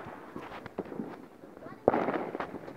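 Sharp pistol cracks go off at a New Year's Eve celebration, a few scattered pops and then one louder burst, heard outdoors under people talking.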